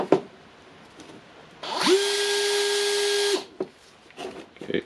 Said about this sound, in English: Let's try how the motor spins when I press this one.